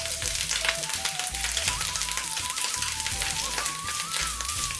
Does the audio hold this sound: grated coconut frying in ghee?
yes